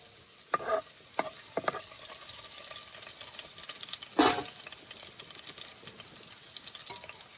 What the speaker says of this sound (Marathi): झणझणीत लसणीची आणि मोहरीची फोडणी